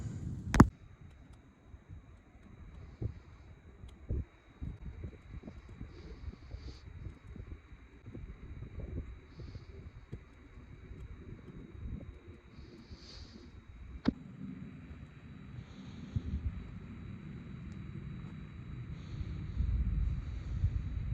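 Strong wind at an exposed mountain campsite in Georgia, a steady low rumble buffeting the microphone in gusts, with occasional sharp rustles and knocks from the tent or gear; no speech.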